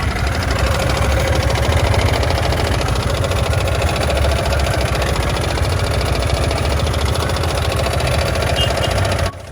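A Yamaha XMAX scooter engine runs with a fast metallic rattle like clinking coins over its steady idle, close and loud throughout, cutting off at the very end.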